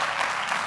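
Applause from a church congregation fills a short burst, a steady wash of clapping throughout, moderately loud with no voices over it.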